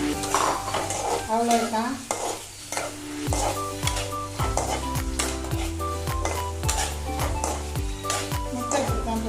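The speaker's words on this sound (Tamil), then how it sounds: "முட்டை பொரிக்கிறோம்" Four eggs frying in a pan with a loud, continuous sizzle, mixed with utensils scraping and clinking against the pan, close up, with a brief spoken remark.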